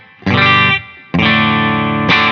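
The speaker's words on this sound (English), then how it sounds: "For us to hear anything, we need to click the wireless button over here." An electric guitar plays through a NUX Mighty Space stereo practice amp in wireless mode. Three loud distorted chords ring out with chorus and effects, separated by short gaps, and no voice is heard.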